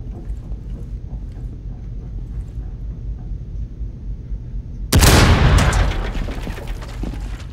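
A steady low game-like background rumble in Rainbow Six Siege, then a sudden loud burst of gunfire or blast that rings out and slowly fades.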